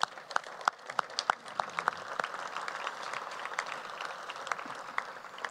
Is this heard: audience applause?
yes